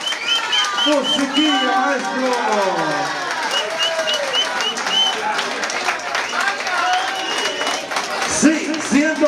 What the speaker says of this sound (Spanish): ¡Fuerte el aplauso que se escuche y que pase para acá!